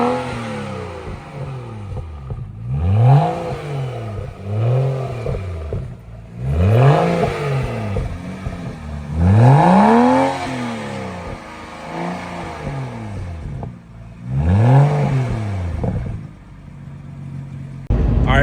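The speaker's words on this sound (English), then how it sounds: "Let's get a listen to the new car." A newly bought daily-driver car with suicide doors has its engine revved repeatedly: a series of loud, close blips rising and falling in pitch, roughly every two seconds, with no talking over them.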